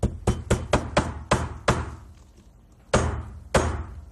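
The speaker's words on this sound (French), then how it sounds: "Un coup de marteau pour bien aplatir." Hammer blows flattening a small rivet for a piece of jewellery ring out as sharp, close metallic strikes: a quick run of about eight evenly spaced hits, a pause, then two more louder blows.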